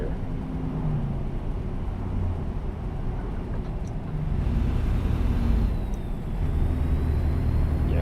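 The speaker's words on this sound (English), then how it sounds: "otherwise I'm touching my air brakes" Steady low engine rumble of a heavy truck in American Truck Simulator with a brief hiss of air brakes partway through, continuous vehicle drone throughout.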